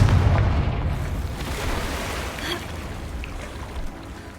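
A Confringo blasting spell goes off in Hogwarts Legacy, a dull booming explosion with a heavy low rumble that starts loud and slowly fades over a few seconds.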